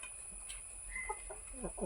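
Hens cluck in a short burst of quick, close clucks near the end, after a quieter stretch with faint background hum.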